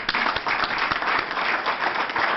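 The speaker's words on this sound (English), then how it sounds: "So we would like to applaud you as the business community as well." Steady applause from an audience at a business chamber of commerce legislative reception, dense continuous clapping filling the whole moment at a fairly loud, even level.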